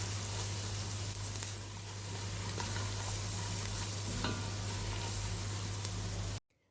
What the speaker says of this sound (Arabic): هضيف البهارات المطحونه، هقلب لحد ما اشم ريحتها